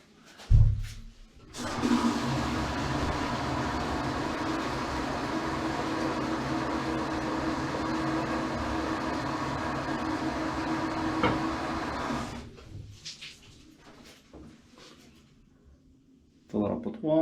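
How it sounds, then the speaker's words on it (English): Water from a tap runs into a small pail being filled to unclog a toilet, a steady rushing flow lasting around ten seconds before it stops. "Fill it up with water."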